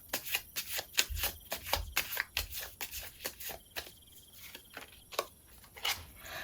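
Tarot cards are shuffled and drawn by hand: a close, crisp series of rapid riffling snaps and slaps in an uneven rhythm, with brief pauses between bursts and no talking.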